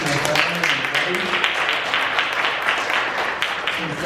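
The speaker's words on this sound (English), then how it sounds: "I'd love to give him another round of applause," Audience applause for an open mic performer at a disability pride day event, steady clapping throughout with some voices mixed in.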